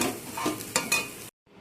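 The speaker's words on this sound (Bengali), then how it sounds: "দিয়ে সব কিছু একসাথে মিশিয়ে নেব।" Potato curry with ground roasted peanuts is stirred in a sizzling pan, with a few scraping strokes over steady frying hiss before it cuts off abruptly.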